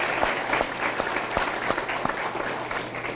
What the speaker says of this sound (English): Round of applause for Trey Thompson